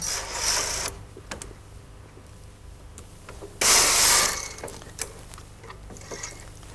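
A Brother KH950i knitting machine carriage knits a row over a cast-on cord, giving two loud whirring, swishing passes with quieter mechanical ticks and rattles between them, no voices.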